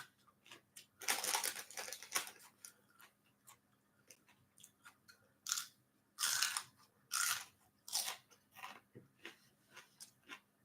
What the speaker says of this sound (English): you're really munching on them